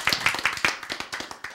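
A small church audience claps in a quick, even rhythm, about a dozen close, crisp hand claps over a second and a half, with no talking.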